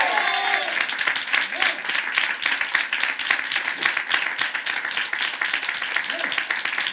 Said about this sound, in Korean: 그렇게 할 사람들만 우리 하나님께 박수로 영광 돌리겠습니다